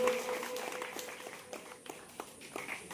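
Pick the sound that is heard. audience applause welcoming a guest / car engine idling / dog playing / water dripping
audience applause welcoming a guest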